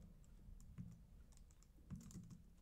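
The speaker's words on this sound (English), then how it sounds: "I'm going to keep typing in the notes" Quiet, irregular keystrokes on a computer keyboard while typing music notes into notation software, small clusters of clicks with short pauses between them.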